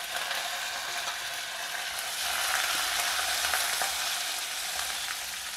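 Mustard seeds, methi seeds, chana dal, dry red chillies and curry leaves roast in hot oil with a steady, dense sizzle and faint crackles. It is close and continuous, with no voices.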